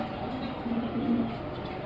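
Pigeons coo at a pigeon farm, a soft low throaty murmur that swells around the middle of the stretch over steady background noise.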